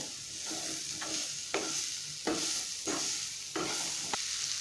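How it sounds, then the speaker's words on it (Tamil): Cauliflower florets coated in spice powder fry in hot oil for a pepper fry, a steady close sizzle broken by regular scraping stirs of a spatula about every half second to second. "எண்ணெயிலே ஒரு 5 நிமிஷம் நல்லா ஃப்ரை ஆகி வரட்டும்."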